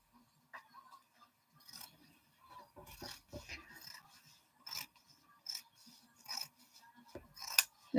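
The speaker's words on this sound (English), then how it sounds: "We can trim our seam allowance." Scissors trimming the seam allowance on a sewing project, a string of short dry snips and rasping cuts with pauses between them, close and fairly quiet.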